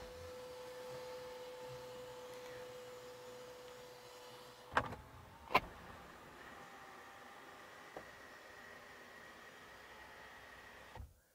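A low electric motor hums steadily as a Hyundai Azera's sunroof slides open, broken by a couple of sharp clicks and a thump near the end.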